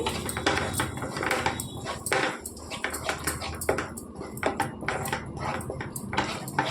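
Chilli being mixed by hand into a chukka kura (greens) and coconut chutney: a busy run of clattering, tapping and scraping against a bowl, close and fairly loud, with no talk.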